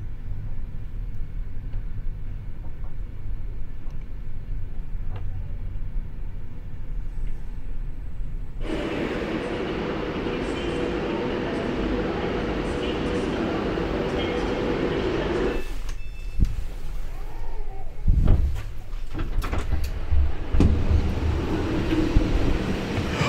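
Steady rumbling hum inside a moving Avanti West Coast Pendolino electric train carriage, the noise swelling loudly midway then giving way to clunks and shifting sounds as it slows.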